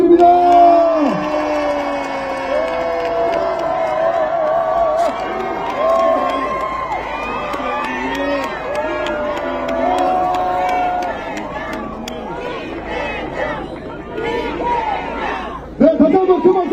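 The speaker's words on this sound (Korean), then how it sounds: "큰 박수 부탁드립니다." A large crowd cheers and shouts at a Korean presidential campaign rally in Dongtan, with sustained dense crowd noise and voices throughout and a louder burst near the end.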